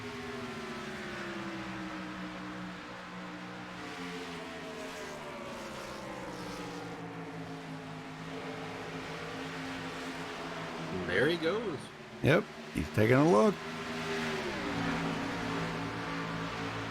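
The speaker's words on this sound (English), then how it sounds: "Got the Western Auto car wound up tonight." Western Auto race car engine wound up at speed on an oval track at night, a droning whine rising and falling in pitch as cars pass, with commentators talking over it.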